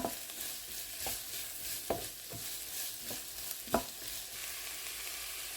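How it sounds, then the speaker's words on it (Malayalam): Sliced onions fry in a pan for beef cutlets while a spoon stirs them, with a steady close sizzle broken by several sharp scraping knocks. "ഇനി ഈ ഒനിയനെല്ലാം നന്നായിട്ടൊന്ന് കുക്ക് ചെയ്തെടുക്കാം"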